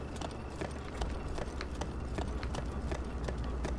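Horse hooves galloping across terrain in Zelda: Breath of the Wild, a steady fast clip-clop rhythm of sharp repeated hoofbeats over a low rumbling ground layer, continuous and fairly close.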